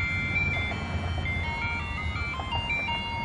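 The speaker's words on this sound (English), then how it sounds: "Little Ice Cream Man backup music here for you" Ice cream truck jingle playing near a 2013 Audi Q7, a tinkly repeating melody of bright chime-like notes running steadily over a low rumble of background noise.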